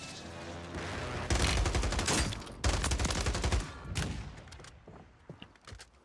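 Gunfire in Warzone 3 erupts as loud, close bursts of rapid shots in two heavy volleys, then thins into scattered, fainter pops and thuds.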